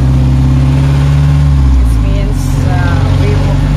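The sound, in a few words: jeepney pulling away in Davao City traffic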